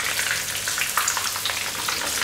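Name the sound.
breadcrumbed lamb chops pan frying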